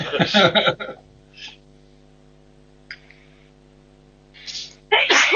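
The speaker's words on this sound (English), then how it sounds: "somebody sneezed in my ears" A loud, close sneeze bursts out at the start, followed by a low electrical hum and a few faint noises before another loud burst at the end.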